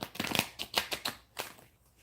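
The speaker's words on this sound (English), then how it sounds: "Let's shuffle and see what else they want to say." A deck of tarot cards is shuffled by hand, giving a quick series of crisp, papery riffles and flicks in uneven bursts that are close and fairly soft.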